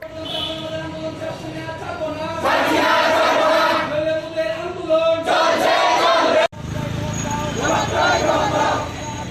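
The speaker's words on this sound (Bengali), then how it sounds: "প্লেকার্ড হাতে নিয়ে চাকুরির দাবিতে স্লোগান তুলতে শুরু করেন" A crowd of teacher-eligibility test passers holding placards outside the education building's main gate chants slogans demanding jobs, loud rhythmic group shouting rising and falling in waves with a brief cut midway.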